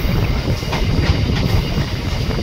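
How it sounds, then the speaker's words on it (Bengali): A train runs close by with a loud, dense rumble and steady clatter that continue through the short stretch. "ট্রেন চলতে লেগে গেছে।"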